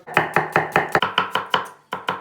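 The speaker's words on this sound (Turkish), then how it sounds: "Biberi doğradık, soğanları doğrayacağız." Rapid, steady knife chopping of onions on a cutting board, about a dozen crisp close strikes in quick rhythm with a brief pause near the end.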